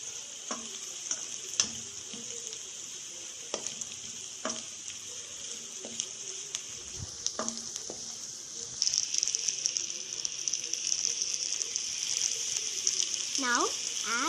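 Carrot rice is stirred in a hot pan, producing a continuous bright sizzle broken by regular close scraping and tapping strokes of the spoon, which grow busier toward the end.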